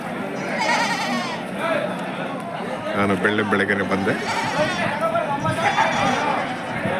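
Young goats at the Tumkur kid-goat market in Karnataka bleat repeatedly in a busy crowd, their wavering cries rising and falling close by under constant talking from people nearby.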